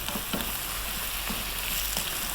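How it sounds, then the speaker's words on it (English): Eggplant sizzles and crackles as it is stir-fried in a pan for a potato curry, a steady frying hiss with periodic scraping stirs, close and alone. "another 4 minutes, stir frying this around"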